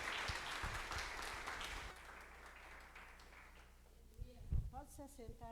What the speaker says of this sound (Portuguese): Pode aplaudir mais uma vez ao Senhor, por esta oportunidade de ouvir a palavra.